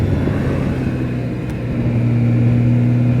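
A BMW K1600 GT touring motorcycle's engine hums steadily while riding through the Black Forest, a smooth, continuous low drone with wind rush and no talk.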